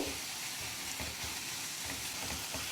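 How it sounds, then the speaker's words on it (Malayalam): Sliced onions fry in hot oil in a pan with a little salt, giving a continuous close sizzle while being stirred, with soft scraping and stirring noises over the hiss. "ഇനി ഈ സവാളയുടെ നിറമൊന്ന് മാറി ഒരു ലൈറ്റ് ബ്രൗൺ ആയി വരുന്നവരൊന്ന് ഇളക്കി കൊടുക്കുക"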